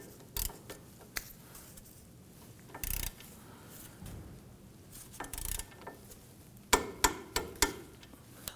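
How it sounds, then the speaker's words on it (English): A torque wrench tightens the lower pinch bolt on a 2008–2011 Ford Focus front wheel hub, giving scattered sharp metallic clicks that end in a quick close cluster of louder clicks. "Let's go ahead and torque down our lower pinch bolt to 46 foot-pounds."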